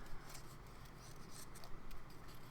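Scissors snipping paper for a junk journal, with the paper turned to trim close around a lace-style edge; quiet, soft crisp cuts and rustling close by, with no talking.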